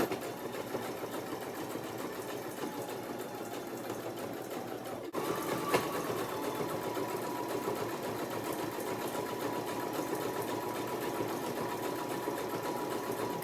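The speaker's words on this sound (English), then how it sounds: "Continue sewing this until the base reaches 6 inches across." Sewing machine running steadily and close while stitching the coiled rope base of a small basket, a continuous fast mechanical chatter with a slight change in tone partway through and no speech.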